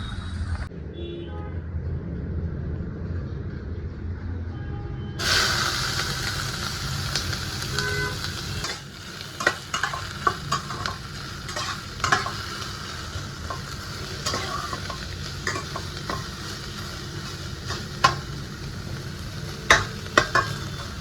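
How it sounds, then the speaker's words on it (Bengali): Onion with salt and turmeric frying in a pan in a home kitchen, a steady sizzle with stirring and scraping clicks, and faint passing traffic and horn toots in the background. "একটুখানি পেঁয়াজ, হাফ পেঁয়াজ এর মধ্যে দিয়েছি আমি, আর নুন আর হলুদ যেরকমভাবে ভাজায় দেয় চাপা দিয়ে দিয়ে ভাজছি"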